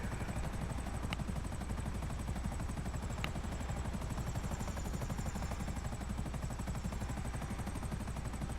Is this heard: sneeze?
no